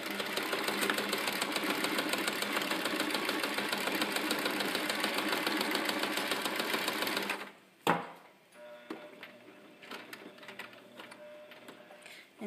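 A Singer home sewing machine stitching fabric in a zigzag pattern, a fast, steady mechanical whir and tapping that runs loud for about seven seconds, then stops abruptly, followed by a sharp knock and quieter handling noises.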